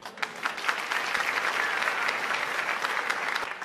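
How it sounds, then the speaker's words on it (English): An audience applauds a comedian being introduced on a cooking show: dense, steady clapping from a crowd that holds at an even level for the whole stretch before tapering slightly at the end. "Let's hear it right now for Tony, the Godfather Dijerlando."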